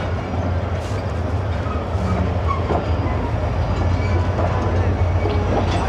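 The Pakistan Express, running Peshawar to Karachi, rolls past on the rails with loud, steady wheel clatter and rumble close by, overlaid with faint speech.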